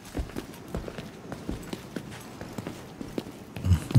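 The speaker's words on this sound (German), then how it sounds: "Ich höre schon wieder Schritte." Footsteps in the video game The Division 2, a run of soft, evenly spaced steps with a heavier thump near the end, fairly quiet and without talk.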